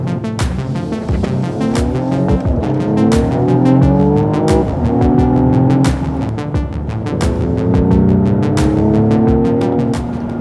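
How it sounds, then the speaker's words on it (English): A Mercedes-AMG GLE 53 SUV's engine revs hard and accelerates in Sport Plus mode, rising through gears with sharp shifts, loud and close, with a rumbling exhaust throughout. "So you put it into Sports Plus, drop a gear, and drop the hammer."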